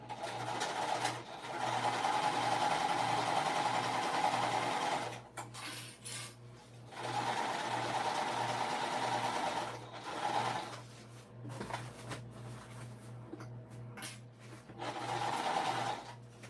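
A sewing machine stitches a seam on a fabric crossbody bag in several close bursts of rapid, even whirring, separated by short pauses.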